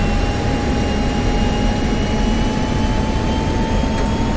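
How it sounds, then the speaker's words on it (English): A fighter jet roars steadily on its takeoff roll with afterburner engaged in the flight simulator DCS World over the Persian Gulf map, a loud, unbroken engine rumble with a thin whine and no talk. "Afterburner."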